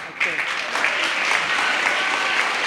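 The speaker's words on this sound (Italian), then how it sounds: "Un applauso di incoraggiamento, dai." An audience at a school meeting gives steady, dense applause of encouragement, loud and close, lasting the whole stretch without a break.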